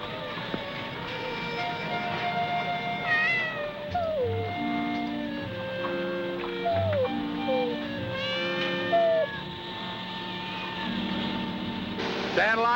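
A cat named Dandelion meows several times, its calls rising and falling at close range, with a steady background hum and people talking nearby.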